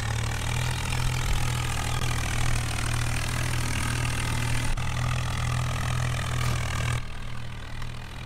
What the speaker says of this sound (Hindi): काफ़ी टाइम बाद यूज़ कर रहा हूँ इस ट्रैक्टर को